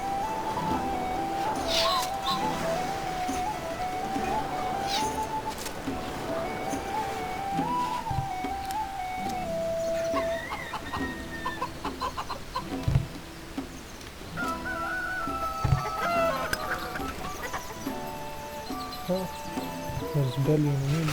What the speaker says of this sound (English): So many birds here.